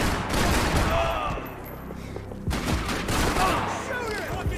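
Rapid gunfire bursts and fusillades from a Max Payne 3 firefight roll on through the whole stretch, loud and dense, dropping briefly midway and then surging back, with shouting voices over the shots.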